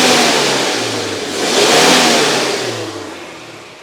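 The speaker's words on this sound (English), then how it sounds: "You just rev it, and lots and lots of dust gets blown out" A small air-cooled car engine revs up loudly, the pitch rising to a peak around the middle and then falling back toward a rumbling idle, close and alone.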